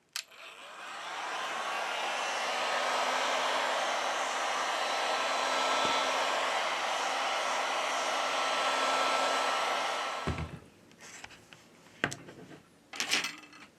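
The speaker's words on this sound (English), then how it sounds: "We apply heat to the device to remove the battery cover." Heat gun or hot-air blower warming the back cover of a Samsung A32 5G phone, a steady loud whooshing hum for about ten seconds, then switched off, followed by a few light clicks and taps of handling.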